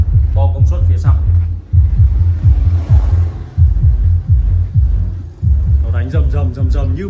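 EON 518S active subwoofer thumps out deep, booming bass in a steady rhythmic pulse, loud and close, with music playing over it.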